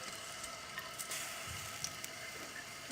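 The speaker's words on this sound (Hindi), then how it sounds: "फिर हम ये चॉप लहसुन डालेंगे ज़रा सा।" Chopped garlic sizzling in about half a cup of hot oil, a soft, steady crackling fry with occasional light pops and stirring sounds, heard alone.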